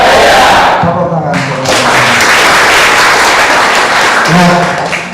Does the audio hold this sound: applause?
yes